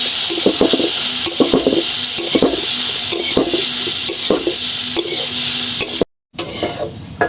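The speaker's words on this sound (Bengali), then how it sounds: "আর দিয়ে দেব ভেজে রাখা আলুগুলা। এগুলো ভালো করে কষিয়ে নেব।" Spices and already-fried potatoes stir-fried in a pan for a fish curry: rhythmic scraping strokes over a low sizzle, repeated about once a second, with a brief dropout near the end.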